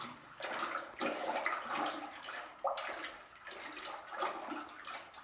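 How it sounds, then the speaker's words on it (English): Purple pottery glaze stirred in a bucket makes a continuous, fairly quiet sloshing and swishing with uneven wet surges and no talk. "Give it a nice stir, make sure that all the contents are distributed evenly throughout the glaze"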